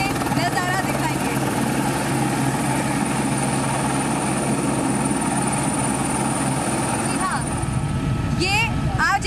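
A helicopter flies over Vrindavan, its rotor and engine roaring loudly and continuously from up close, with a voice speaking over it throughout.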